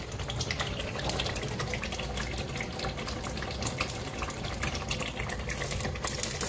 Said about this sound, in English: I'm about to add my stock water.